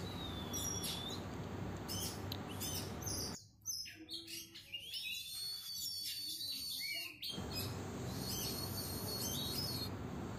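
An oriental magpie-robin (kacer) in a hand-held cage sings in bright, varied bursts of chirps, whistles and trills, loud and close, dropping to a sparse, quieter patch of scattered notes mid-way before full song resumes.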